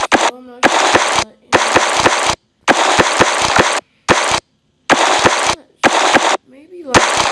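Rapid bursts of automatic machine-gun fire in a first-person shooter capture-the-flag match, loud and close, come in about eight separate volleys split by short silences, with a brief voice-like tone near the start.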